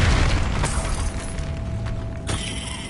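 A Confringo fire-blast spell in the video game Hogwarts Legacy erupts in a loud, close explosive boom with crackling, shattering debris, followed by a second burst near the end.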